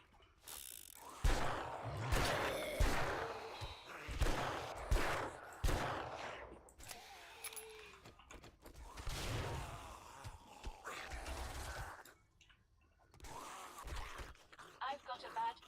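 Gunfire and mechanical weapon clicks from the video game 7 Days to Die, played with the Rebirth mod, arrive as repeated sharp bursts mixed with clattering under ongoing talk.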